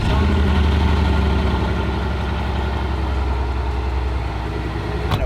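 A Bugatti engine idling with a deep, loud, steady exhaust rumble heard close up, holding a constant throb for several seconds.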